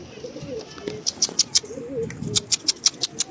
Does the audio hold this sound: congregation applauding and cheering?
no